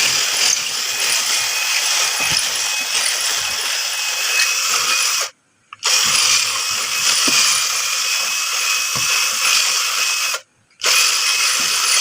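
A cordless drill with no hammer function bores into a soft wall while a shower heater is being installed, a steady loud whirring grind that runs on and cuts out for two short pauses. No one speaks.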